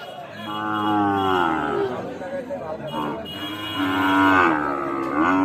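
Sahiwal bull calf, about seven to eight months old, lowing in several long, wavering moos close by at a cattle market, with faint crowd chatter behind.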